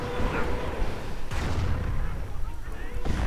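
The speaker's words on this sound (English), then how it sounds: "Nice hit on the anti-tank gun." An anti-tank gun takes a hit during a video game battle: two sharp, booming impacts about two seconds apart, set in a dense, continuous rumble of gunfire and artillery.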